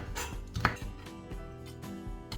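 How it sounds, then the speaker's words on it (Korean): Knife finely dicing a cross-split cheongyang chili pepper on a board, a quick series of light chopping taps with one sharper knock, quiet and close. "청양고추 하나는 크게 씹히면 또 너무 매우니까 십자로 갈라주신 다음 잘게 썰어주세요"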